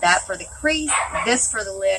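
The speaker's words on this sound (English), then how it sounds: "Sorry about the dogs. That's the neighbor's dogs," Several neighboring dogs bark and yip repeatedly nearby, sharp overlapping bursts in quick succession, while someone talks over them.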